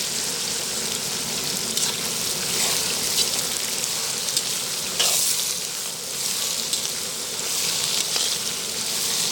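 Small and large onions fry in hot oil for a vathal kulambu, sizzling as a dense, continuous crackle with a few louder spits and stirring movements, heard close up and alone, with no talking.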